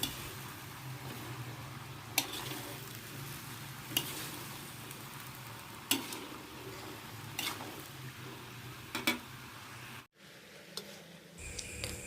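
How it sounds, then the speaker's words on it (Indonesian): Potatoes and vegetables fry in a pan with a steady, close sizzle, while a spoon stirs them and knocks against the pan in faint, occasional taps every couple of seconds. "Kemudian masukkan kentang, aduk rata supaya menyatu, tidak ada jarak di antara keduanya"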